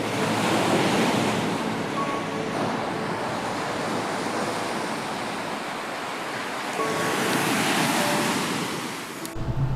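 Surf rolls onto Pampelonne beach near Saint-Tropez in winter, a broad continuous wash with slow swells, heard close and fairly loud, mixed with wind buffeting the microphone.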